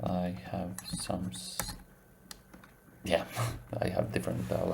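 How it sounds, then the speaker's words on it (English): Scattered clicks of a computer keyboard with a foreign-language layout tap out irregularly, fairly close, mixed in with a person talking throughout. "I have different language for this keyboard, so that's why hard to find these quotation marks."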